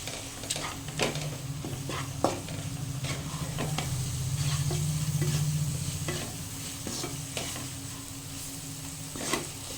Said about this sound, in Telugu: ఇది బాగా కలుపుకుందాం.